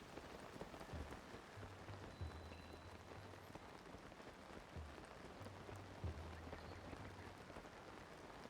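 Rainfall in Kakariko Village in Zelda: Tears of the Kingdom, a steady, soft, even hiss of drops with faint low tones underneath, no voices.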